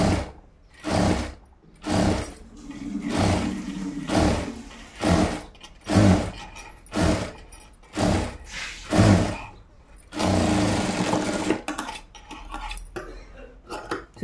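A sewing machine stitches blouse cloth in repeated short whirring bursts separated by pauses, then runs in one longer continuous stretch near the end, close and clear with no voices.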